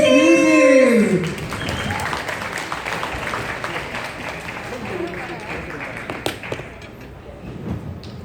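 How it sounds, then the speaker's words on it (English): An audience applauds the cast of the Broadway musical Newsies at a press event, a steady wash of clapping that follows a loud shouted voice and gradually thins out, with occasional sharper claps. "let's give a round of applause for the cast of Newsies!"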